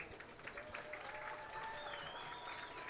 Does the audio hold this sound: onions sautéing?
no